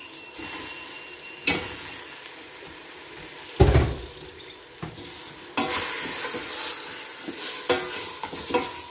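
Meat stirred into fried onions in a pot, with a steady sizzle broken by a heavy clunk and scraping stirs of a utensil against the metal, close by.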